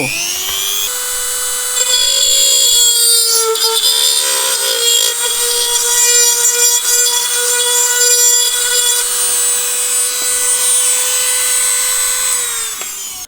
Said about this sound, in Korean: 그 다음에 이제 팁을 바꿔가지고 조금 더 큰 드릴을 이용을 해서